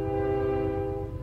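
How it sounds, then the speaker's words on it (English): A train horn sounds in one sustained, steady blast, loud and close, with the rumble of the moving train underneath. "Nice train."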